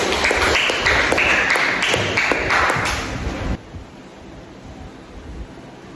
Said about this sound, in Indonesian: berikan aplaus dulu teman-teman